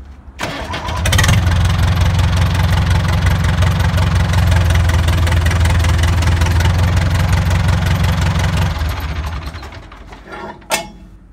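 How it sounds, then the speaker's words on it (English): A tractor engine cranks over, catches and settles into a loud, steady low idle close by for about eight seconds before shutting down, followed by a brief clunk at the end. "So we're gonna go up, fire up the tractor"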